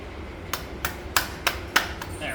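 Five evenly spaced, sharp metallic taps drive a Comp Cams cam gear onto a camshaft during short block assembly of a Cadillac 500 engine, close and crisp against a quiet shop background.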